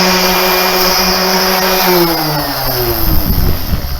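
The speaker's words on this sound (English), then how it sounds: "I've sanded both sides of these panel doors with a 60 grit sandpaper using my palm sander" A steady, whirring palm sander motor hums loudly and changes pitch as 60-grit sandpaper grinds against wooden panel doors, with rough scraping near the end.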